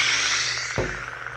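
A Galaxy's Edge Darth Maul Shadow Collective toy lightsaber powers up with a bright electronic whoosh followed by a low steady hum, close and fairly loud.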